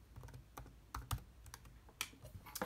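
A computer keyboard is typed on close by, with quick uneven clicks and a couple of louder key strikes, entering a command into drone flight-controller configuration software.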